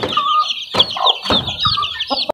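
Backyard chickens and chicks cluck and chirp close by, a busy overlapping mix of hen clucks and high peeping with no talking.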